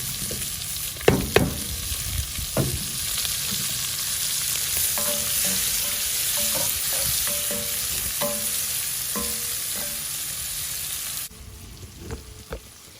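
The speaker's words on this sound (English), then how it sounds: "I got some bacon in a cast iron." Bacon and onions fry in a cast iron pot, a steady close sizzle with occasional clanks and scraping stirs, quieting near the end.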